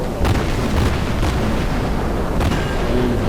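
Ship guns firing in the naval battle game World of Warships, a few heavy booms over a constant loud rumble of battle noise.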